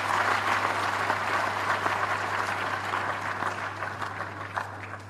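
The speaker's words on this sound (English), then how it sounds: "Please give yourselves a big round of applause." Graduates at a convocation ceremony give themselves a sustained round of applause, a dense steady wash of clapping from a large hall that holds fairly even for several seconds before easing slightly, with a steady low hum underneath.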